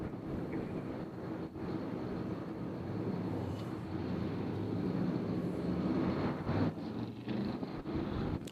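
A distant airplane drones on approach to land at Nashville International Airport on a windy day, a broad low rumble that rises slightly over several seconds, mixed with gusty wind noise on the microphone.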